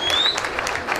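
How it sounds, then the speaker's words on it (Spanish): Spectators at the Alfonso Silva stadium applaud a substituted player leaving the pitch during a Canary Islands versus United States youth football match, a brief burst of scattered clapping with a commentator talking over it. "el aplauso del público asistente a este estadio de Alfonso Silva."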